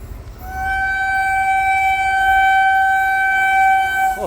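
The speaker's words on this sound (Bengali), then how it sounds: "এই যে আসছে ট্রেন, অসাধারণ লাগছে।" A train passing between tea gardens in the Dooars sounds a long, loud, steady horn note that holds for several seconds over a low rumble.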